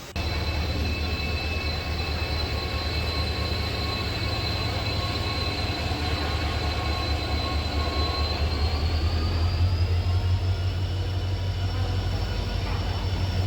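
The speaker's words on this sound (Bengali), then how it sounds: "সাপ্তাহিক হাওড়া তিরুপতি হামসাফার সুপারফাস্ট এক্সপ্রেস" Howrah-Tirupati Humsafar Superfast Express on a platform at Howrah station, a steady loud rumble of rolling wagons with sustained whining tones that shift in pitch partway through, no speech.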